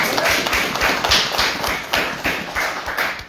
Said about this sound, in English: That deserves many applause.